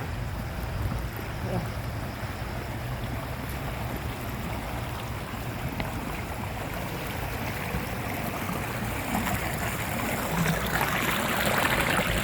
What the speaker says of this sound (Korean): 물소리가 되게 시원해요